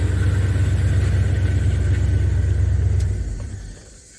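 A 1978 Chevrolet engine idles with a steady, loud, low rumble close by, then drops away and fades toward the end.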